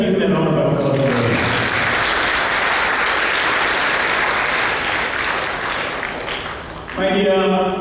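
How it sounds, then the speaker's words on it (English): Audience applause fills a school hall at an investiture ceremony at Lourdes Central School, a loud, dense burst of clapping lasting several seconds, with a voice speaking briefly before it and another voice speaking as it fades. "Shall we give him a round of applause?"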